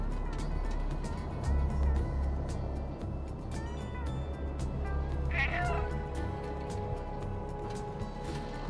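A cat meows once in the middle of the video game Stray, set against a steady ambient background hum.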